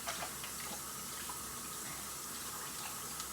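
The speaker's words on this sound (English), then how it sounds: "Gotta rinse this quick" Running water from a kitchen tap pours steadily over a whole raw chicken being rinsed in the sink, a continuous close splashing hiss with no talking.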